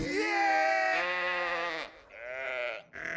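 A sheep bleats loudly and up close in a film scene, giving one long wavering bleat and then two shorter ones, with the last one cut off near the end.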